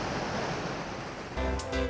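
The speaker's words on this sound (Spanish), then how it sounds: "El mar salvaje." Wild waves of the Cantabrian Sea off the Basque coast near San Juan de Gaztelugatxe roar in a continuous, loud rush of surf. A heavier surge breaks near the end, and wind mixes in.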